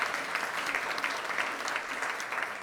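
Steady applause from a crowd, a dense wash of clapping that holds evenly throughout without any voices rising above it.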